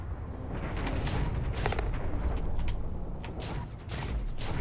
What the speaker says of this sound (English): Ooh, somebody's shooting at me.